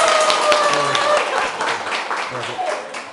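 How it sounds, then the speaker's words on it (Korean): An audience applauds a high school student, a dense burst of clapping that slowly fades over a few seconds, with a voice talking over it. "이야, 박수 한번 주세요."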